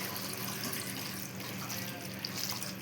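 Water pours into a cooking pot of fish-bone curry with plantain, eggplant, drumstick and potato, a steady faint splashing stream running throughout.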